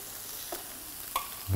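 Fish grilling in a pan gives a soft, steady sizzle with faint scraping touches, fairly quiet and close, and a louder thump at the end.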